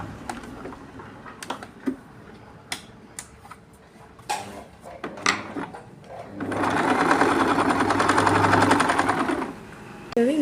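A sewing machine stitches a front dart on a blouse: a few light clicks and handling noises come first, then about three seconds of steady, fast, close-up stitching that stops abruptly.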